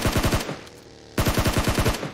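Rapid automatic gunfire in a multiplayer shooter video game: two loud, close bursts of quick, evenly spaced shots separated by a short pause.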